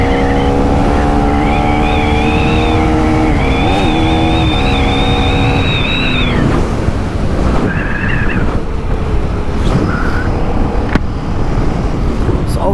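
Motorcycle engine during a road race, with a loud continuous engine roar and wind rush, rising and falling whines as it revs, and someone talking over it.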